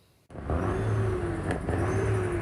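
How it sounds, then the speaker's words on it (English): Truck engines rev and rumble on the streets of downtown Ottawa, a steady loud drone with a rising whine, continuous and close, with no voices over it. "trucks like these snarling the streets of downtown Ottawa"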